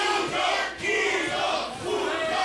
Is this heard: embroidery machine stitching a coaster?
no